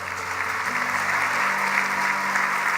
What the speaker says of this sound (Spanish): Y le dan un aplauso fuerte al Rey.